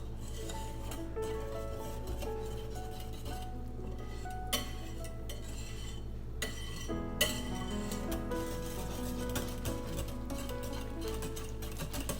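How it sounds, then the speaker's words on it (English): Heavy cream being gently stirred in a bowl, with soft clinks of a utensil against the bowl over a steady low hum, near and fairly quiet with a few sharper taps. "Then I'm going to gently stir"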